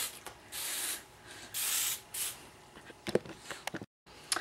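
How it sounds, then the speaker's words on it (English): Hairspray misted onto teased hair, several soft hissing bursts of varying length close by, followed by light rustling and handling noises. "I'm gonna hairspray this."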